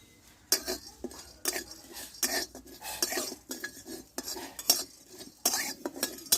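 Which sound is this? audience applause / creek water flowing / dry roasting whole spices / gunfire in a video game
dry roasting whole spices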